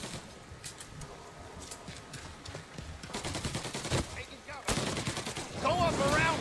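Rapid Tommy gun bursts in a Mafia Definitive Edition shootout, several crackling automatic volleys fired at mid distance, growing louder toward the end with other game noise around them.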